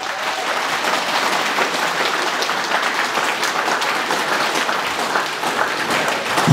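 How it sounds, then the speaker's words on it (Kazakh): Crowd at a Kazakh home celebration clapping in sustained, dense applause for several seconds, loud and continuous with a slight swell at the end. "30 секундта шапалақ."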